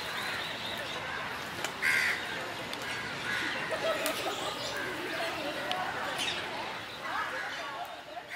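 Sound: free-living parrots calling in Indian park

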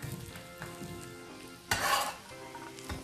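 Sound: sliced zucchini frying and being stirred in a buttered pan

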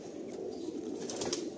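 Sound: Murshidabad pigeons flapping wings in a loft

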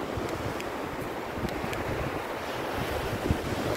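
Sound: sea waves on the Adriatic coast at Alba Adriatica

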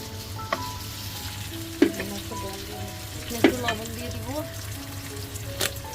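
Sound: onion frying in oil, being stirred

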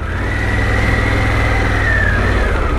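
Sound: Harley-Davidson Pan America motorcycle engine riding off

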